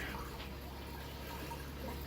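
Water overflowing and draining down into a DIY aquarium sump filter, a continuous, even rushing and gurgling flow at close range, steady throughout with no talk.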